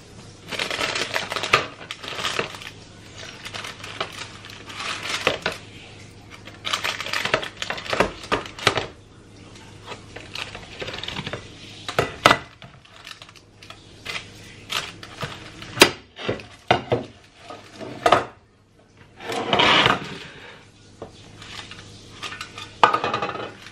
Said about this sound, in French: Je vais la démouler dans l'autre sens pour vous la montrer